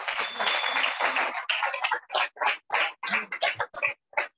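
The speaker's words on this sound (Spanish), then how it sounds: "Den un aplauso al Señor porque Él es bueno." Church congregation clapping for the Lord during a Spanish-language sermon, a sustained wash of applause that thins into scattered separate claps near the end.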